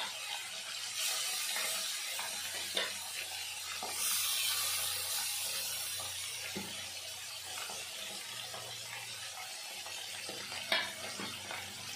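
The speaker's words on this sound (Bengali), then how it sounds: "মাছগুলো এখন ভেজে নেব।" Koi fish frying in oil in a pan make a constant close sizzle, with occasional scraping stirs and clinks from a utensil against the pan, and no one speaks.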